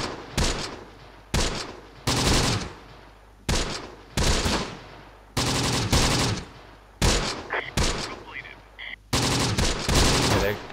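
Bursts of rifle and machine-gun fire from Close Combat: The Bloody First, a World War II tactics game, crack out in a rapid series of loud separate volleys, each a sharp report trailing off before the next, with a few fainter distant shots in between.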